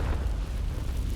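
A blasting spell explodes in Hogwarts Legacy, a loud, heavy low-end boom that rumbles continuously over about a second with no gaps.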